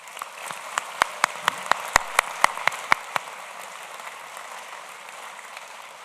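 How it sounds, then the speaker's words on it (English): Scattered applause at a university commencement ceremony honoring former trustees, a soft wash of clapping with a dozen or so louder, distinct claps standing out near the microphone before thinning away. "Please join me in offering them already now a first round of applause"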